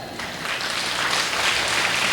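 Audience applause at a Hindi poetry recital, a steady dense wash of many hands clapping together, moderately loud and continuous without pauses.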